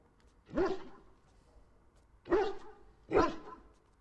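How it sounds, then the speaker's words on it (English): A big dog in the video game Dragon Age Origins barks three times, with a short deep woof followed by a long pause and then two more barks in quicker succession, moderately loud and otherwise quiet. "That's a big dog."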